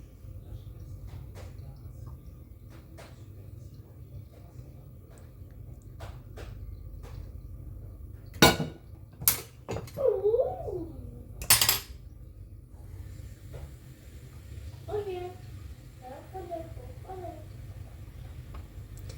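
Sharp clinks and clatters of dishes and utensils, a few loud knocks close by, with quiet rustling between and some brief tonal squeaks.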